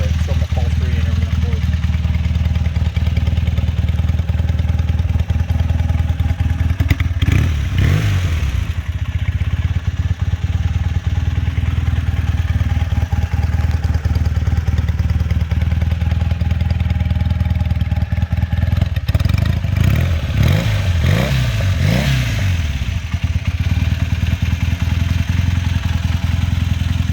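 A 1978 Honda CB400A Hondamatic motorcycle idles steadily, then revs in short bursts during a riding demo, with the engine clatter close and persistent throughout.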